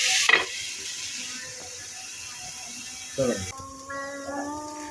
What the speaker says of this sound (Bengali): এটা একটু সময় নিয়ে ভাজতে হবে।